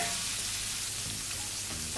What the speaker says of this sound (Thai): ใส่ก่อนค่ะเพราะว่าแครอทสุกยากนะคะเราเอาแครอทใส่ก่อน